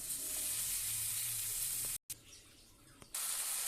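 Boiled jackfruit and potato fry in a pan with a steady close hiss that drops out briefly for a moment, then continues more softly; no one speaks.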